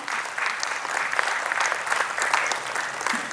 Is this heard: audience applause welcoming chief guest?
yes